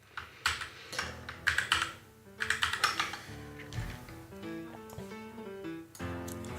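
Computer keyboard typing in quick clustered bursts of clicking keystrokes, close and clear, with short pauses between runs and no one talking.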